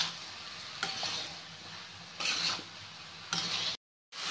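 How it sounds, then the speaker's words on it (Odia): Turmeric, cumin and coriander powder fry in a pan for temple-style khichdi, with soft sizzling broken by three bursts of louder stirring scrapes, quiet and close. "ସବୁକୁ ମିକ୍ସ କରିକି ଭଲସେ ଟିକେ ଭାଜିବା"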